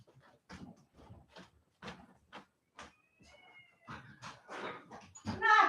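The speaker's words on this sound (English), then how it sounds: "I have a cat fight on my front porch" Cats fight on a front porch with a run of short hisses and growls, then thin drawn-out yowls that swell into a loud wail at the end. They are heard from a little distance.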